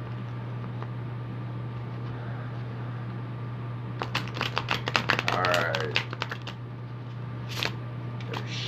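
Tarot deck being shuffled by hand, a quick burst of riffling card clicks for a couple of seconds over a quiet room hum, followed by a single short word and a faint tap.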